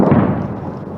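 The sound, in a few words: thud of US coalition airstrikes in Raqqa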